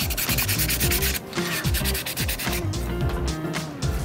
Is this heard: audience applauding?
no